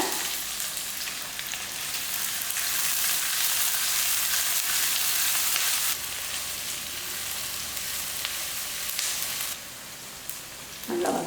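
Large-cut onions and brinjal fry in a pan for an egg gravy, giving a steady, loud broadband sizzle throughout with a brief quieter stretch near the end, no talking.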